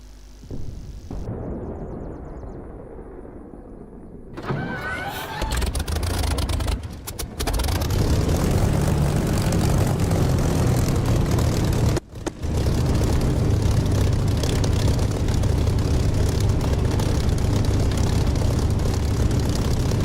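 A propeller aircraft engine in the DCS flight simulator starts with the brake on and the prop set fully fine, then revs up into a loud, steady, droning roar. There is one brief dip near the middle.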